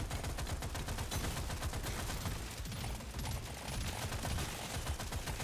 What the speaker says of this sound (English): The only way I'm surviving is with this fucking pistol shooting behind me.